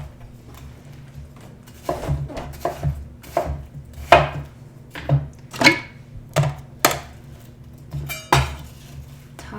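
A knife chopping watermelon flesh into cubes on a cutting board, a series of about a dozen crisp, irregularly spaced thuds and taps close up, with quiet pauses between strokes.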